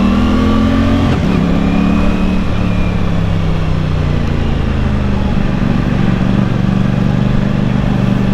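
Honda CB650R motorcycle engine revving hard through quick-shifter upshifts, loud and steady with brief dips in pitch at each shift, heard from the rider's position with no talk.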